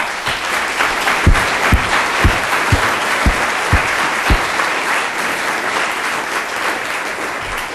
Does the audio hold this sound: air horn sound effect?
no